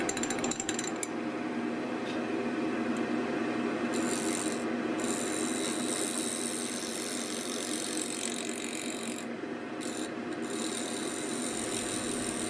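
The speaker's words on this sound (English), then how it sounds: "have the tailstock up and starting to turn, starting off with the bowl gouge" A bowl gouge cuts wood spinning on a lathe with the tailstock brought up, making a steady, continuous scraping rasp over a low motor hum, close and unbroken, with no talk.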